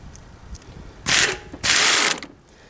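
Impact wrench loosening bolts on a Hyundai Accent 1.6L engine during a timing belt job, with two loud, sustained rattling bursts close by and a short pause between them.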